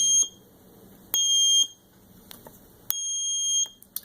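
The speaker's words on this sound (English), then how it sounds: "There's our buzzer" A small piezo buzzer in a paper-circuit doorbell made with conductive ink and tape for a Lego house gives three shrill, steady electronic tones, each about half a second long, separated by quiet gaps.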